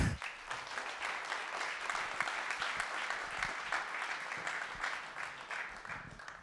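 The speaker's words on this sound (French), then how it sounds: "Je pense de l'applaudir très très fort." An audience at a Nantes municipal-election political meeting applauds a speaker, a dense, continuous wash of many hands clapping that holds steady at moderate volume for several seconds.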